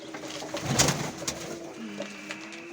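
Pigeons coo softly in a loft setting, a low murmuring call with a brief louder flutter-like rustle near the start and faint ambient noise throughout.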